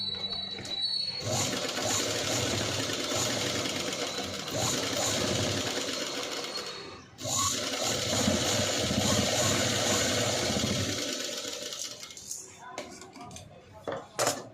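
A sewing machine stitches the neck onto a patchwork blouse, running in steady bursts of rapid mechanical chatter with a brief pause midway, then stopping with a few handling clicks at the end.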